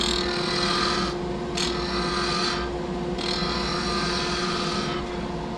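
A skew chisel makes a planing cut on wood spinning in a turning lathe, a continuous close rasping hiss over the motor's hum. The cutting noise pulses as the tool makes several passes, with short lighter gaps between them.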